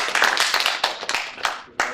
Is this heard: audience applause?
yes